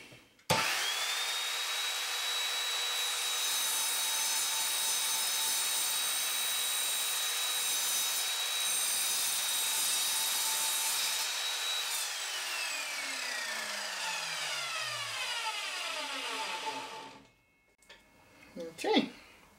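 An Evolution Fury 3S 210mm sliding mitre saw cuts through steel box section: a loud motor whine holds steady for about twelve seconds, then winds down with a falling pitch before a few knocks and quiet.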